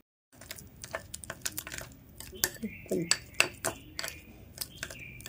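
A spoon clinks and scrapes against a bowl while multani mitti face pack is stirred, giving a run of close, irregular taps and rattles with a few brief metallic rings.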